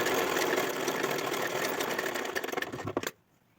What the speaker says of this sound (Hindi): अब ऑल राउंड स्टिचिंग करेंगे हम।